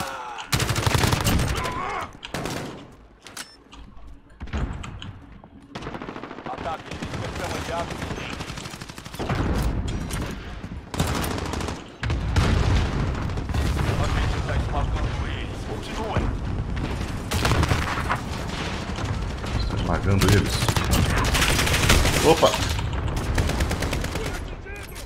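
Rapid automatic gunfire from Call of Duty Modern Warfare, loud sustained bursts and single shots crackling nearly throughout, with short pauses, explosions and mechanical clatter, while a player talks over the action.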